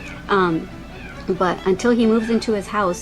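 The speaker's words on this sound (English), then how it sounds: "If you hear that noise in the background, that's a little kitty cat that my son found." A little kitten, found in a park, meows and cries to be let out of its carrier, several high wavering calls close by, while a person keeps talking over them.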